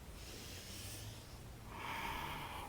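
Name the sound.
breathing during yoga sun salutations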